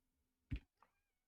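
A cat gives a single short meow nearby, followed by a fainter little chirp, in an otherwise quiet room.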